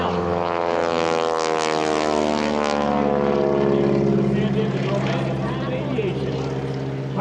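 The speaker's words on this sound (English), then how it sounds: "Pilot today is Susan Dacy" A propeller airplane flies at the EAA AirVenture airshow, its engine drone steady and fairly loud throughout with a slight rise and fall in pitch as it passes.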